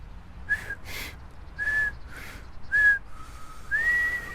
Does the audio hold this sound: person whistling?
yes